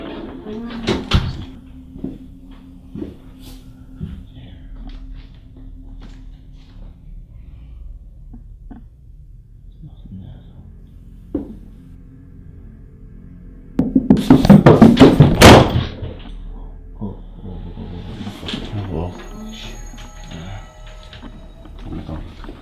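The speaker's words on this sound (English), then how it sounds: "The sound of the closed footsteps along with the door closing right next to him" Sparse knocks and thumps echo through an otherwise quiet house, then a loud cluster of close impacts bursts out like a door banging shut, before scattered softer clatter trails off, captured in a supposedly empty home during a paranormal encounter.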